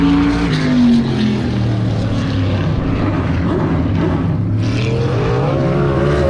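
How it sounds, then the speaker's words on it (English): A sprint car races around a dragstrip oval, its engine a loud, continuous drone that rises and falls slightly in pitch as it circles, with no voices over it. "start off with a little bit of sprint car action on the oval"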